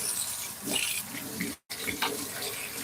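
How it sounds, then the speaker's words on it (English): Hand being washed under a running tap, steady splashing water at close range with a brief cutoff partway through before the flow resumes. "Let me wash my hand"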